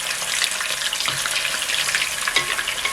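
Snacks fry in hot oil in a kadai, giving a continuous close sizzle scattered with sharp crackles and pops, with no talk over it.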